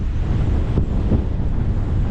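Strong wind blasts across a clifftop on the coast, producing a heavy, continuous rumble of gusts against the microphone with faint surf underneath and no speech.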